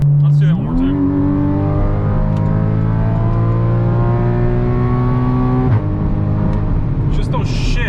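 A Porsche Cayman S 981 boxer engine in sport mode pulls hard from inside the cabin, a loud steady rising drone with a sharp rev jump early and a clear gear-shift dip near the end, under occasional talk.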